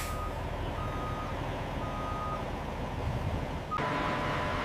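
Heavy truck backing toward a loading-dock bay at a wool textile factory, its reversing beeper sounding a steady repeated tone over low engine rumble, fairly near, with a hiss of air brakes near the end.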